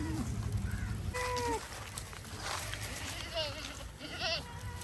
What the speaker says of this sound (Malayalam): നല്ല ക്രോസ് ബ്രീഡ് ആടുകൾ, ബീറ്റൽ ക്രോസ്, ജമുനാപാരി ക്രോസ്